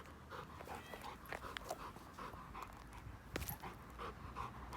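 A tired dog panting rapidly and close by, with quick rhythmic breaths and a few faint whimpers over a quiet outdoor background.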